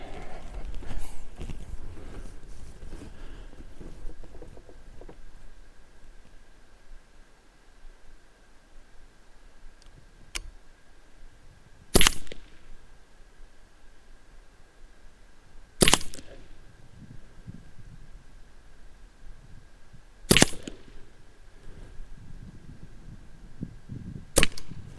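A Leshiy 2 regulated air rifle fires several sharp, loud cracks, spaced a few seconds apart, over faint background noise.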